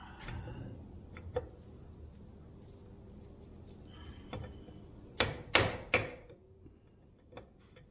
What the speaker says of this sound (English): I'm hoping I can take this drift and just drive this axle out, this half shaft.